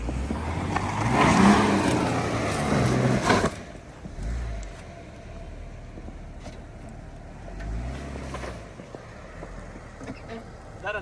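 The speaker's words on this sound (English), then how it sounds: "There's a car coming, bro." On a terrible snowy road during a blizzard, a car approaches and passes loudly close by, its engine and tyres rushing, then fades. A second, fainter vehicle swells and passes later, and people talk between them.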